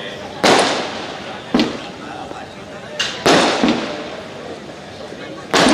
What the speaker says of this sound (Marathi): काय फटाके लावले रे